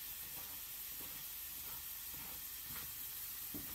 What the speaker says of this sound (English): we're going to add our onion right to the ground beef as it's cooking